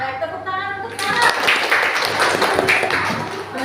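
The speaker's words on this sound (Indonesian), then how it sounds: "tepuk tangan untuk Sarah." A classroom group bursts into brisk clapping after a voice finishes speaking. The dense, close applause carries on steadily to the end.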